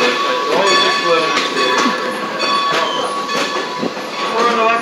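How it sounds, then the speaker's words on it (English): A heritage railroad train runs on the Strasburg line, with steady, loud rolling rumble and clatter from the cars throughout, faint voices mixed in under the noise. "This is the train."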